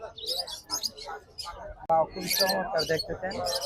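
A talking bird for sale at a bird market gives short, sharp chirps and calls in bursts, mixed in with people talking close by.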